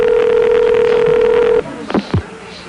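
A single long telephone ring sounds close and steady, then stops, followed by brief handling clicks and near silence.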